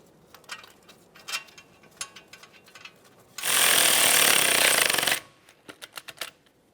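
Mounting bolts on a 1994–1997 Honda Accord front wheel hub bearing module are tightened with a ratchet, giving quick clicks around one loud two-second burst of a power tool.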